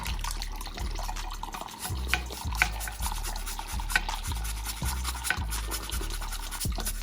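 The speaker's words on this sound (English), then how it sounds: "I'm gonna brush as I rinse." A lace wig being brushed while rinsed under running water, with steady wet scratching strokes over a constant stream of water, close and fairly loud, with no talking.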